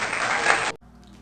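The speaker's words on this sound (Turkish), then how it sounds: "Buraya bir alkış efekti koyuyorum" A dubbed-in crowd applause effect plays loud and full for under a second, then cuts off abruptly into near silence.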